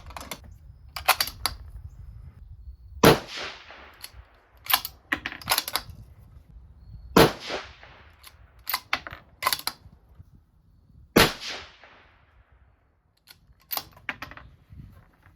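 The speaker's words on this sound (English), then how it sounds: "we'll shoot a 3-shot group and then we'll adjust the optic from there" Three sharp rifle shots ring out a few seconds apart while a Discoveryopt HD 5-30x56 GENII scope is being zeroed, each one loud with a short decaying echo, among scattered mechanical clicks and handling noises.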